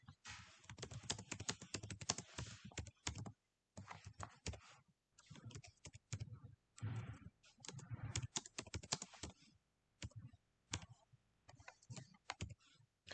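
Python code typed on a computer keyboard: steady, close, quiet key clicks in irregular bursts with short pauses, keystrokes running continuously with no voice over them.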